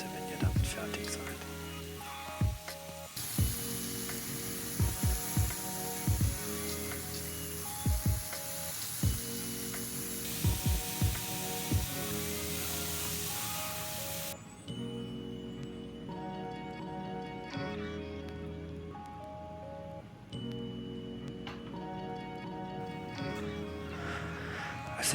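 Chicken breast fries in a pan, a continuous crackling sizzle running underneath background music, with several sharp percussive knocks early on and no pause in the frying.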